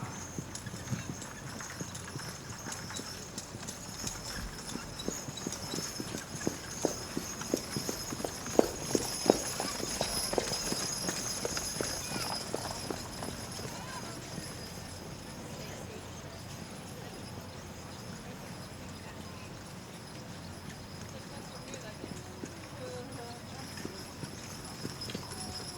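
Draft horse at a 4-H fair tandem and cart class trotting across the arena, a steady run of hoof clip-clops that builds in the middle and then eases off, with an announcer's voice and a faint whinny in the background.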